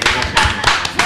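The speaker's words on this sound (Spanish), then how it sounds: "Me gustaría darle un aplauso a mi compadre Manzano." A few people on a Mexican talk show give quick bursts of clapping in short, uneven clusters, close and fairly loud, with voices mixed in.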